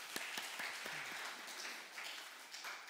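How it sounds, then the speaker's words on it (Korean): Faint church congregation applause at a Sunday morning service in a Marine Corps church, scattered claps with a soft steady patter, distant and quiet. "우리 박수 한번 하겠습니다."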